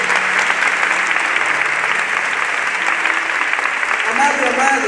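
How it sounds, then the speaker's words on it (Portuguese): Loud, close applause from a church congregation during a Portuguese-language worship service, a dense, even clatter of hands lasting several seconds with faint tones entering toward the end. "Vamos aplaudir a poderosa palavra de Deus."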